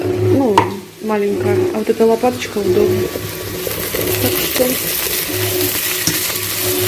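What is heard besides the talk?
cabbage frying in a pan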